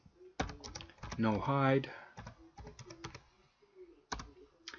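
Computer keyboard keys clatter in quick bursts of clicks while a voice talks over them, entering AutoHotkey GUI code.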